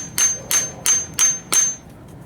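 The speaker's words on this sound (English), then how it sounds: "So I just take a hammer and I go ahead and tap that thing down" Five sharp metallic hammer taps on a Honda Civic coilover ring out at a steady, deliberate pace, close and loud, each with a brief bright ring.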